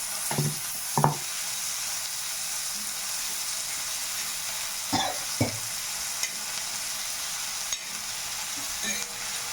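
Chopped tomato and crushed chillies fry in a pan for a Vidarbha-style tawa-fried brinjal bharit, a steady sizzle running throughout with a few sharp scraping stirs near the start and middle.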